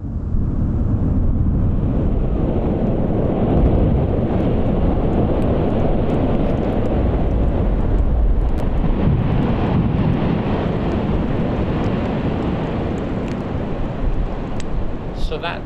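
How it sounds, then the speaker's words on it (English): A huge tower of glacier ice breaks off and crashes into the water, giving a long, deep, booming rumble that stays loud and steady throughout, with roaring wind-like noise and no clear talk. "So that sound is one of those big, big towers of ice falling down into the water, that big booming crash."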